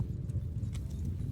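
Horses gallop in the Bannerlord game, a low, quiet drumming of hooves that rumbles continuously with faint scattered clatter on top.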